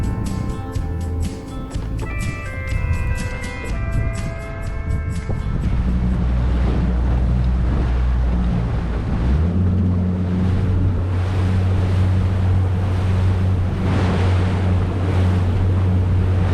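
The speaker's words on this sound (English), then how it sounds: "The wind's blowing about 20 miles an hour and the current's ripping." Strong wind of about twenty miles an hour buffets the microphone at coastal jetties in St. Augustine, a constant loud rushing mixed with surf, with low engine-like droning partway through.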